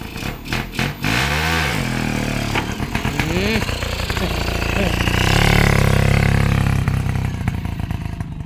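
Motorcycle engine revving up and down close by, rising and falling pitch sweeps before settling into a loud steady roar, with people talking over it.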